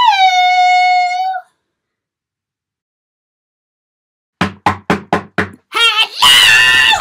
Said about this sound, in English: I'll knock on that door to see.